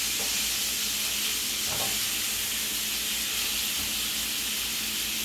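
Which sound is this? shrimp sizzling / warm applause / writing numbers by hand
shrimp sizzling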